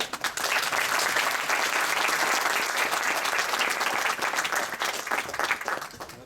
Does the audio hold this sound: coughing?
no